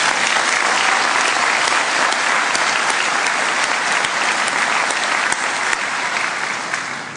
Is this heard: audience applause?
yes